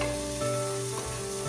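Rice with prawns frying in a pan, a steady loud sizzle with stirring scrapes, continuous and close, no voices.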